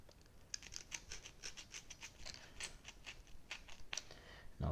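Blade cutting through foam for a servo cutout on an RC wing build, a series of soft, scratchy crackling strokes in a loose steady rhythm, close and fairly quiet.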